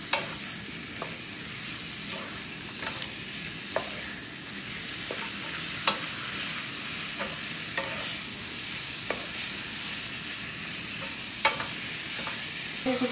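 Chicken pieces being stirred and fried in a pan, a steady broadband sizzle with repeated scraping clicks of the utensil at irregular intervals, close and moderately loud throughout.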